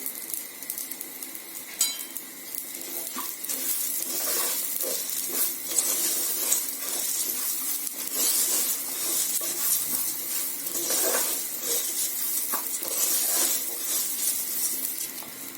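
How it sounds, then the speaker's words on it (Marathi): Rice roasting in ghee in a pan for jeera rice: a steady, close sizzle and crackle of frying runs throughout, with occasional scraping stirs. "तुपावर तांदूळ परतून घेऊया"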